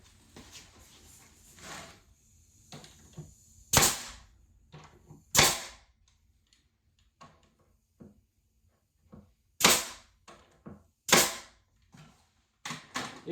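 A brad nailer fires brads into wood, sharp isolated cracks spaced a second or two apart, several of them loud and close, with soft handling clicks between shots.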